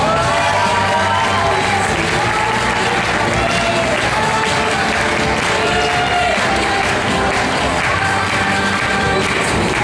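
A slam poetry audience claps and cheers loudly for a performer, with sustained crowd applause, whoops and shouts filling the space throughout.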